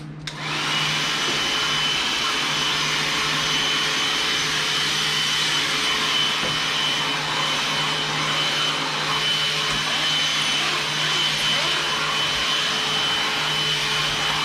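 A Bauer 20V cordless vacuum cleaner runs continuously at close range, a loud steady whirring whine from start to finish with no talking.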